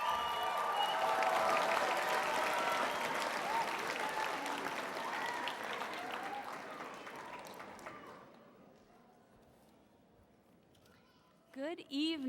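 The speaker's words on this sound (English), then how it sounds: "give her a loud applause" An audience at a high school graduation ceremony applauds loudly with dense clapping and some cheering, then the applause slowly fades to near silence before a voice starts speaking at a microphone.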